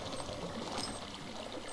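Water flows and pours continuously in the Minecraft video game, a close, steady splashing rush with no talk over it.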